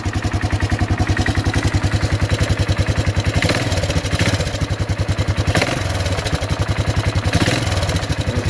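A 1984 Honda ATC200ES Big Red ATV engine idles steadily with a rapid, rhythmic chugging pulse and a ticking, puffing clatter from an exhaust leak, close and loud throughout.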